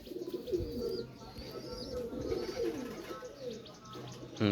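Male Kamagar high-flyer pigeons coo in soft, repeated throaty rolls close by, with a few light chirps and a brief flutter near the end.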